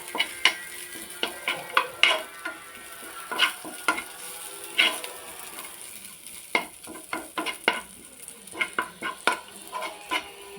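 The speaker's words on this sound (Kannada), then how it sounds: "ನೋಡಿ ಈ ರೀತಿ ಫ್ರೈ ಮಾಡಬೇಕು" Elephant foot yam fries with curry leaves and pepper in a pan, a low steady sizzle broken by frequent sharp scrapes and clinks of a spoon stirring against the metal.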